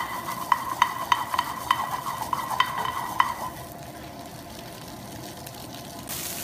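Spicy curry lobster meat is stirred in a hot pan, with a run of rhythmic scraping strokes over a steady sizzle for about three seconds before the stirring stops and only the frying hiss remains.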